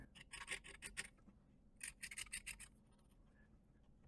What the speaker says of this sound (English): scraping off any junk.